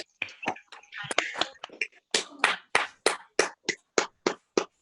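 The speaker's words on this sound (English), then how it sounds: "we'll give a round of applause to Shirshendu" Participants in an online seminar, unmuted over their microphones, clap for the speaker: a scattered flurry of claps at first, then settling into a single clear, evenly spaced clapping.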